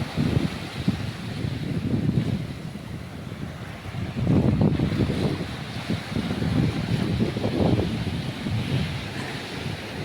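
Sea waves roll in and wash up on Pirwadi beach in Uran, Raigad, at rising tide, in repeated surges, mixed with gusty wind buffeting the microphone.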